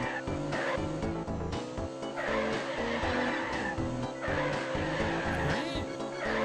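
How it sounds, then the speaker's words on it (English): Karts power skidding through turns in Diddy Kong Racing, a retro kart racing game, with squealing tire skids and engine whine over continuous loud game music. "Try pressing brake when skidding."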